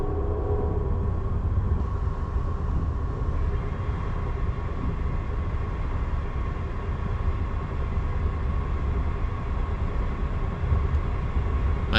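Amtrak's Lake Shore Limited rolls through hills near Springfield, Massachusetts, heard from inside as a steady, loud low rumble of wheels and carriage noise that continues without a break for the whole stretch.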